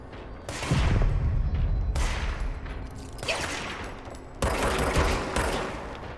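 Enemy gunfire in the video game Control, a sustained loud clatter of rapid shots and impacts in repeated waves, dense and close, with no talk over it.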